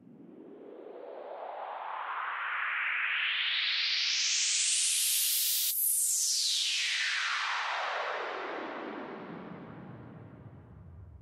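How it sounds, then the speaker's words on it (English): A music-production transition effect: a long synthetic whoosh sweeping steadily upward in pitch to a sharp peak, then falling back down, swelling loud in the middle and fading at both ends, with no voices. "we have these transitions here, which sound like this"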